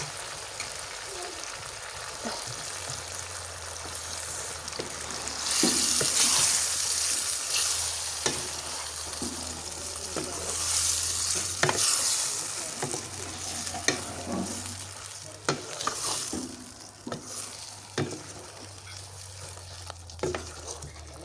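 Spiced beef pieces with bone and fat stir-fry in a pan with a steady sizzle, and repeated stirring scrapes and knocks ring out throughout at close range with no voices.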